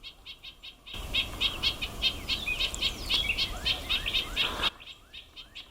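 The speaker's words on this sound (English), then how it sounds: "This is an excited bird." A bird gives a rapid series of sharp, high nuthatch calls, loud and close, over steady background noise, with more calls fading at the end.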